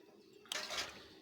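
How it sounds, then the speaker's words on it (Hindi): Water is poured into a pot of rice for a whole-masoor rice dish, a sudden close splash and rush that starts partway through and keeps running briefly, with no speech. "2 कोले हम पानी डालेंगे इसमें"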